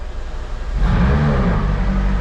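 A 2021 Toyota Supra's engine cranks and catches, settling into a loud, steady idle rumble close by.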